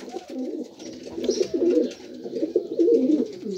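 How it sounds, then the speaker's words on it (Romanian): Pigeons coo repeatedly inside an aviary, a steady run of low, throaty rolling calls close by, rising and falling in bursts with no talk over them. "Barca, dacă nu pleacă la Dani, porumbelul ăla nu părăsea voliera"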